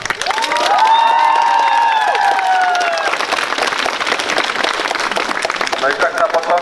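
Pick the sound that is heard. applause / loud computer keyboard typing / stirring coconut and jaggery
applause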